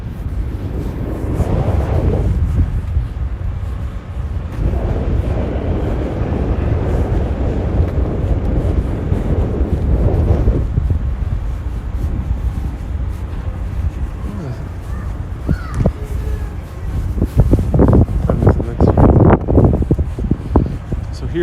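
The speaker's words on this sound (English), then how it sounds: "There's going to be a lot of wind." Strong wind gusts buffet the microphone on a Brooklyn street beside the ferry landing, a loud, continuous low roar with surges, and a burst of extra rumble near the end.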